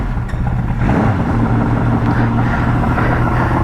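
Honda CB750 motorcycle engine idling steadily and loud up close right after starting on freshly swapped carburetors, a continuous low rumble with no talk.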